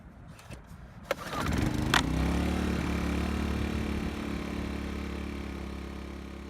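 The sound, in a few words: gas-powered inverter generator engine running after recoil start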